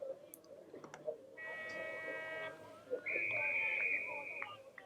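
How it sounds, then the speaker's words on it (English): An umpire's whistle at a night-series under-18 Australian football grand final gives two sustained, fairly faint blasts over crowd murmur and scattered clicks. "Umpire holds it aloft, blows his whistle, and he bounces it"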